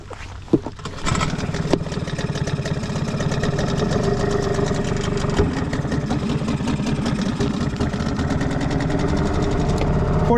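A Hangkai 6HP two-stroke outboard engine drones steadily on a Saturn MC330 catamaran, loud and close, with a buzzy constant tone after a brief start at the beginning, in the rain.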